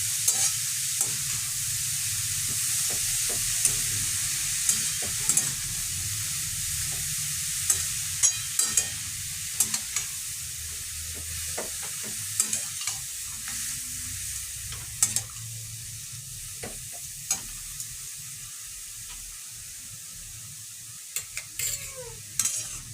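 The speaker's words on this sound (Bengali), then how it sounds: "গাজরটা ভালো করে ভেজে নিচ্ছি।" Grated carrots for gajar halwa fry over a low flame, a gentle continuous sizzle broken by frequent scraping and clicking strokes as a spoon stirs the pan.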